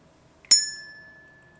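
A single bright bell ding rings out once in near silence, its clear tone lingering and slowly fading.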